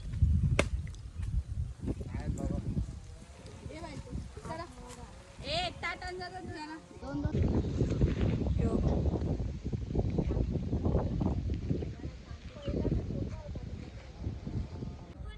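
Strong wind buffets the microphone in loud, rumbling gusts while people talk over it, the roar intensifying in the second half.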